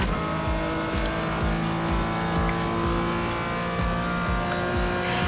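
GT4 race cars in an iRacing sim race at Charlotte roar loudly and continuously, engines revving through repeated gear shifts with bursts of tire squeal over a constant mechanical drone.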